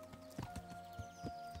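A horse's hooves clop at a walk in the medieval video game Kingdom Come: Deliverance. The soft, evenly spaced footfalls are quiet and sit over a faint steady ambient tone, with no voices.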